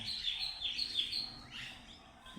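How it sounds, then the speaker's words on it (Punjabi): Faint, rapid chirps and tweets of sparrows in the morning, repeating in quick bursts against a quiet background. "ਚਿੜੀਆਂ ਚੀਕ ਰਹੀਆਂ"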